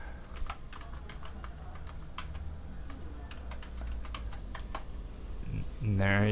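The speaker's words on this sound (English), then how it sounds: "So I'll even type something in. I'll say, make a comment" Quick, light keystrokes tap on a computer keyboard as a comment is typed, an uneven string of close clicks over a low room hum, ending in a short tonal computer chime.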